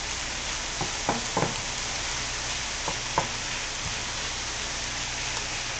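Onions sizzle in a hot frying pan with a steady, even crackle, broken by a few soft taps and clicks, like a spoon stirring or scraping the pan.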